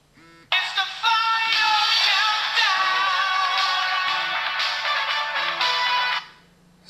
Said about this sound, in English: when it gets to the end of the timer, it plays a ringtone of my choice, an MP3 ringtone